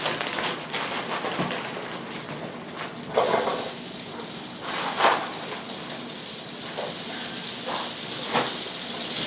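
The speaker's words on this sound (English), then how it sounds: "put some onions in and some of the peppers and saute them" Onions and peppers sautéing in a pan for pepper steak, a steady close sizzle with a few louder crackles and spatters, no voices.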